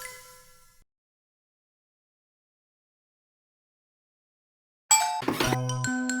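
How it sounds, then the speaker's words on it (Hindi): A cartoon doorbell rings once with a bright, clanging ding-dong chime after a long silence, loud and ringing out alone with lingering tones. "घंटी बजी"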